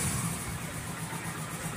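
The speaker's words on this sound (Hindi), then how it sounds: "बाइक चढ़ा रहे हैं ऊपर" A motorbike engine labors as the bike is ridden up a slope, a faint, steady mid-pitched hum with a light rough texture that stays constant over the short stretch, with no talking.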